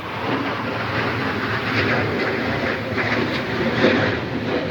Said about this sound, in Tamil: மேலே மேலே சவுண்டு ஏரோப்ளேன் போகிறான் ஹெலிகாப்டரா ஏரோப்ளேனா